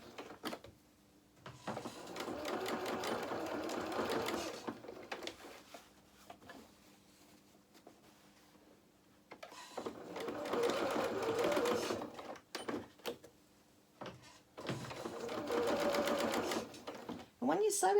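A domestic sewing machine runs in three bursts of steady, fast mechanical stitching along a toile waistcoat seam, with quiet pauses between runs and a voice talking faintly at times.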